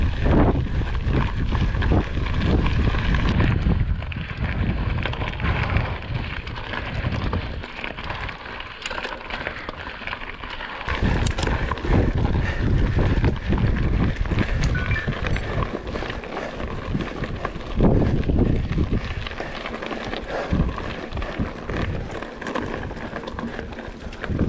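Strong wind buffets the microphone on a mountain bike trail heading toward Trieste, a loud continuous roar with gusty surges throughout, riding noise mixed in.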